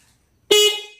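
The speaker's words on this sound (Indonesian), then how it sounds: "tuh hidup klakson" A single short, bright motorcycle horn beep sounds close by after a moment of quiet, fading out quickly.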